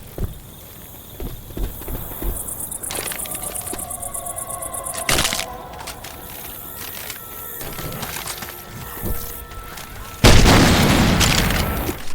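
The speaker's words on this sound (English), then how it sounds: "Got a grenade launcher!" In the Left 4 Dead 2 video game, a grenade launcher fires and its rounds explode, giving several thumping booms and bursts over a busy game soundscape, with a big blast near the end.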